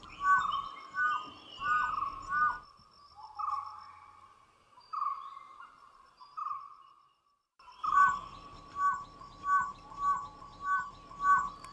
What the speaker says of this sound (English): Known as the Whistling Hunters, the dhole cannot bark the way dogs do.